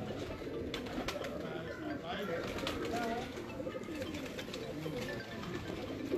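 Pigeons coo softly on a rooftop in a low, continuous murmur, and someone talks over the birds throughout.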